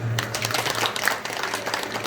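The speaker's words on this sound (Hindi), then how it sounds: "जोरदार ताली बजाइए।" Audience applause at a public event in India, following patriotic chants, steady and dense for about two seconds, with a low hum underneath.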